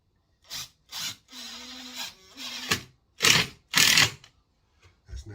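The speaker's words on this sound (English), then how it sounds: "Impact driver." A cordless impact driver sinks screws into timber studwork, giving several short, loud bursts with a longer hammering run in the middle, close by with quiet gaps between drives.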